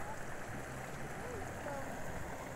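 The Bakas River flows in a steady, even rush of water, a continuous broad wash heard at moderate distance without pause.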